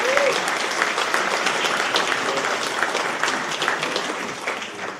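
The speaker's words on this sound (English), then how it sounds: "So can I get a round of applause for Chieftain Trucking?" An audience at a conservancy's annual meeting gives a sustained round of applause, with steady, dense clapping filling the room and tapering slightly at the close.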